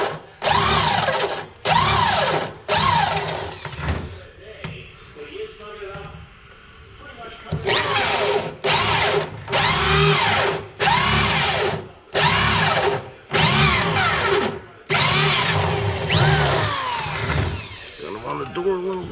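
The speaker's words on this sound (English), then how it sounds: "I realize the drill head is scratching the inside of the door here" A power drill cuts through the inside of a car door in about eight sharp bursts, each a loud whining grind. Short pauses separate the bursts, and there is a longer quieter gap in the middle.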